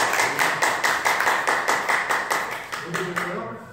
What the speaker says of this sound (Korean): 자, 박수로 이럴 때 격려를 좀 해드려야 될 것 같아요.